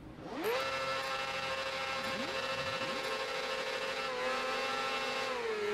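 Yamaha R6 motorcycle in the racing game Ride 3 revs hard and accelerates, its engine note rising and climbing steadily through repeated gear shifts, loud and continuous with no talk.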